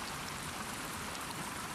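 Steady rain in the video game The Last of Us Part II, a continuous even hiss of falling water with faint droplet detail, heard alone at moderate level.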